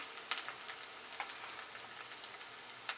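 Paneer cubes fry in a pan until reddish, giving soft, quiet sizzling with scattered light crackles and pops throughout, with no voices.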